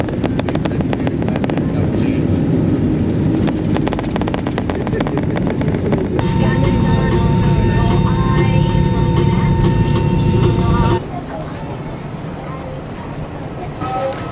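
Steady engine and airflow roar inside the cabin of an Air Asia India airliner descending into Delhi, loud and continuous, with a tonal hum and layered whine in the middle before the level drops to a quieter drone.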